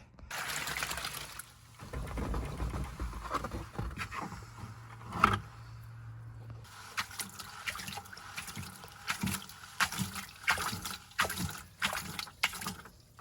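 Gold-bearing sluice concentrate swirled in a pan of water, with continuous sloshing and splashing pouring in irregular surges, close and moderately loud, a sharp knock near the middle, no voices.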